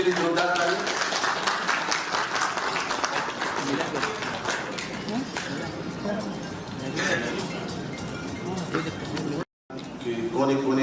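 Audience applause at an award announcing ceremony, steady broadband clapping with a crowd that continues for several seconds, briefly cutting out near the end before resuming, with some talking mixed in.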